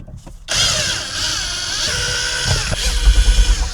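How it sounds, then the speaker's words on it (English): A power drill backs out four screws on a pickup truck's interior trim while fitting a replacement headliner, a steady close whine running for several seconds with a few pulsing bursts near the end. "Take those 4 screws out."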